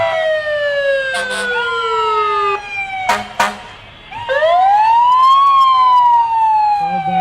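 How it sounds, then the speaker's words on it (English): A Type 1 fire engine's siren wails loud and near in a Santa parade on Lake Shore East, with sweeping tones, a brief horn-like blast mid-clip and faint voices beneath. "Santa on Lake Shore East 5511, our Type 1 engine."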